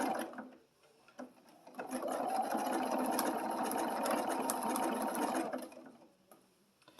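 Close, steady whir of a sewing machine stitching around a candy corn appliqué on a Halloween table runner, starting after a short pause, running evenly for about four seconds, then stopping.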